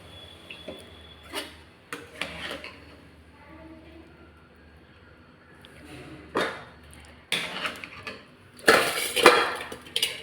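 Spiced cauliflower pieces are drained through a strainer: scattered metal clinks and taps, then a louder burst of pouring, splashing water near the end, with almost no talk.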